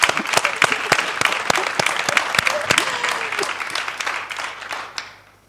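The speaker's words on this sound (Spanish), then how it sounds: "quiero pedir un aplauso" A conference audience breaks into sustained applause, many hands clapping densely and close, then fading out near the end.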